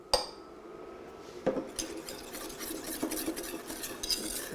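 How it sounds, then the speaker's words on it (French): Pastry cream with custard powder and Grand Marnier whisked in a pot, giving repeated scraping, clinking strokes of a whisk against the metal, moderately loud and close after one sharp initial clink, no talking. "Je mélange bien."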